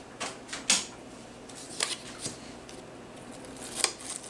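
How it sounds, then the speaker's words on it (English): Scissors cut a small square of cardstock for a Halloween craft frame, heard as a handful of sharp, close snips spaced irregularly over a quiet background. "I'm just going to take a piece of cardstock and cut a little square"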